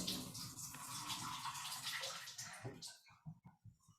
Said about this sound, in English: I'm just going to pour off our water here